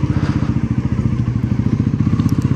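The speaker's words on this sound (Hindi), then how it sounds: "मेरी जो सेकेंडरी बाइक है, जो मेरी सेकेंड वाली बाइक है, वो है NS400" Bajaj Pulsar NS400 motorcycle engine running steadily while riding, a loud, close, rapid pulsing exhaust throb with a faint crackle, no talk over it.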